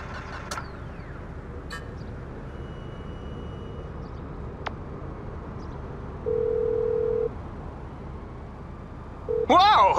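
A phone ringtone in the video game GTA 5, a short steady electronic tone that sounds twice in mid-clip and then breaks into a brighter warbling melody at the end, over a constant low rumble of game ambience.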